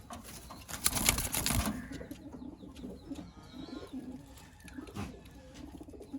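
Caged pigeons coo softly and flap their wings, with a burst of wing beats near the start and low, repeated coos following, faint and close.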